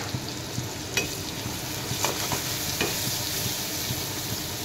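Salt, turmeric, cumin and coriander powders stirred in a frying pan for a fish curry with banana stem, a soft steady sizzle with scattered spoon scrapes and taps close by, no voices.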